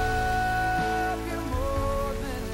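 Steady rain falls outdoors at night, a continuous dense hiss heard close around the listener, blended with a soft tonal music bed and no talking.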